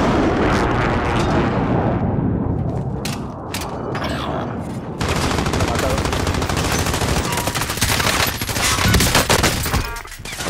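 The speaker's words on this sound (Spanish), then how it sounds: "Tiros." Rapid bursts of automatic gunfire in the video game Warzone crackle continuously, dense and loud, with sharper individual shots and mechanical clatter mixed in.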